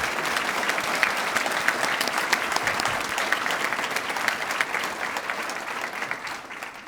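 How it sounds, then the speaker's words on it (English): An audience at an award ceremony gives sustained, even applause for the award recipients, a dense wash of clapping at a steady level that fades slightly at the end. "Can we have a round of applause, please,"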